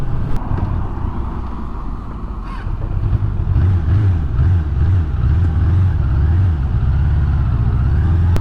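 A Suzuki Bandit 600 motorcycle engine with an idle fault runs steadily at close range, a low, uneven rumble with rhythmic pulsing, under gusty wind noise and no talk.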